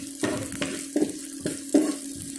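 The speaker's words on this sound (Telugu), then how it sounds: "ఇవన్నీ వేగిన తర్వాత కొద్దిగా అల్లం ముక్కలు అనేవి వేసుకున్నాం. లో ఫ్లేమ్లో పెట్టుకొని బాగా వేసుకున్నాం." Ginger pieces frying in oil on a low flame for ginger chutney, giving a steady soft sizzle with a few louder bursts of stirring against the pan.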